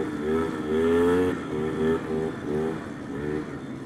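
A Polaris Scrambler 250 three-wheeler's engine runs nearby with a steady mid-pitched drone, rising briefly in a rev near the start, then settling into a pulsing idle that swells and dips.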